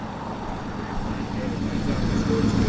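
A Porsche 964 Carrera 4 with its flat-six engine idles at a breakfast car meet, a steady low rumble that builds slightly louder, with outdoor crowd murmur mixed in.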